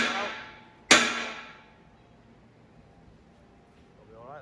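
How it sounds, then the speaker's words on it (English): A single sharp hammer strike on a bent metal locking pin rings out loud and close, its metallic ring decaying over a second before quiet background noise. "If in doubt, get the hammer out"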